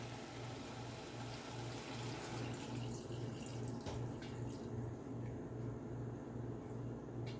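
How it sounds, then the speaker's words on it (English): Milk being poured over chicken in a pot while making chicken haleem, a steady close liquid pour running unbroken for several seconds with no talking. "add the milk into the chicken until the whole chicken is covered"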